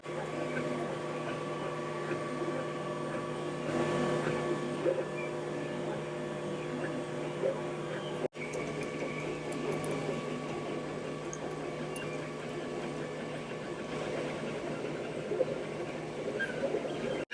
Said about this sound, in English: Now that we've got the Cubicon printing